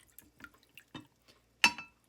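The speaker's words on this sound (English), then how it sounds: "So what I'm going to do then is just pour off the liquid." Liquid drained from canned fruit onto a kitchen counter and pan: a few soft, separate drips and light splashes, then one brighter, louder splash of liquid hitting a hard surface near the end, close by with no talking.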